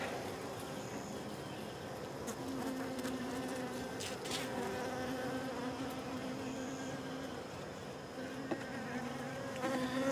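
Honeybees swarm around a nucleus box, their steady, close buzzing forming a continuous drone throughout with individual bees passing nearer now and then.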